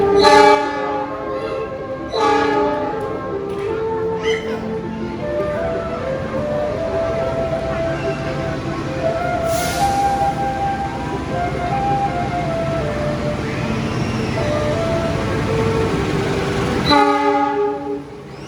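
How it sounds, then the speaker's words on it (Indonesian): A train rumbles past at close range, seen from a second floor in Purwodadi, Indonesia, its horn sounding in long blasts over the steady clatter of the wheels. "bisa lihat kereta dari lantai 2 seperti ini"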